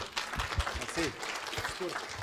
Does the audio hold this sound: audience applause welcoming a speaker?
yes